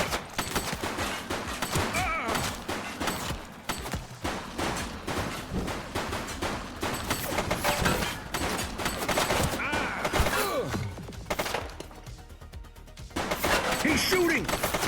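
Rapid bursts of gunfire from a suspect in the police game The Precinct, dense and sustained crackling volleys, fairly quiet overall, with brief lulls and voices mixed in.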